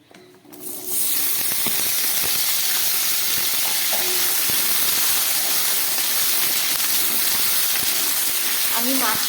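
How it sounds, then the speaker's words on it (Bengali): Potatoes hit hot oil in a kadai, setting off a loud, sustained hissing sizzle that starts abruptly and holds steady throughout, close and continuous. "আলুটাকে আমি একটু ভেজে নিচ্ছি"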